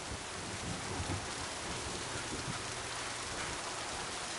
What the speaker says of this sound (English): I like the rain effects on this planet.